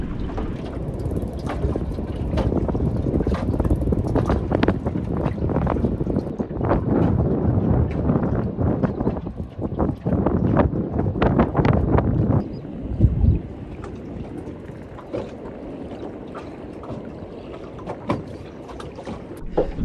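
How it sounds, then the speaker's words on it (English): Strong wind buffets a boat anchored near a lagoon at sunrise, with loud gusty roaring, rattling and knocking from the boat, heaviest early and easing toward the end. "that wind's definitely picking up"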